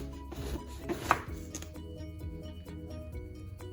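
A knife slices eggplant into thick discs on a cutting board, giving a series of close, crisp chopping knocks and clicks at uneven intervals, one sharper cut standing out, with quiet background hum.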